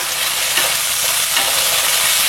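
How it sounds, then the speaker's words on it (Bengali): Spice paste for a Bhetki fish curry, made with green chillies, is stirred and fried in oil, giving a loud, steady, dense sizzle with faint scraping and no voices. "ভালো করে কষিয়ে নিচ্ছি মশলা।"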